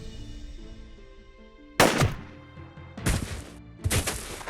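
Three loud, booming sniper rifle shots in the Jagged Alliance 2 video game, the first alone and the next two a second apart, each with a short rolling tail, over a quiet musical background.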